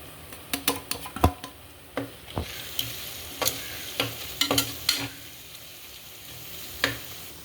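Ground masala for chicken biryani fries in a pan, a steady low sizzle broken by sharp pops and crackles scattered irregularly throughout, with occasional spoon scrapes nearby and no talking.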